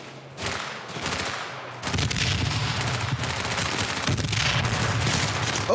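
Rapid video-game gunfire from a Marauder weapon hitting the player, a dense loud burst of shots that starts near half a second and keeps up almost without a break to the end, with game noise layered underneath.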